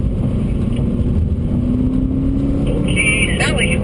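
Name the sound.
cars passing by on a wet race track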